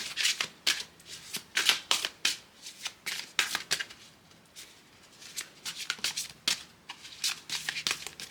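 Tarot cards are shuffled by hand close up, a run of quick riffling bursts and crisp flicks that come in uneven clusters for several seconds, with no voices.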